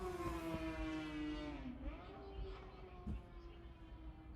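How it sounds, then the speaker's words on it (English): A motorcycle screaming past a house, its engine whine sliding down in pitch as it passes, then a fainter steady drone trailing away, heard from indoors with some low thumps. "That was a motorcycle screaming past my house"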